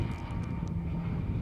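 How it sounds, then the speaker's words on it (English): Small passenger plane from the Isles of Scilly passing overhead in Cornwall, a steady low engine drone heard at a distance, continuous and fairly faint with no talk. "there's a plane coming over. That's the plane from the Isles of Scilly"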